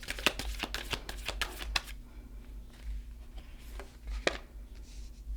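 Tarot cards shuffled and drawn during a new moon reading: a quick burst of close riffling snaps, then a few scattered soft card slaps, quiet with no voices.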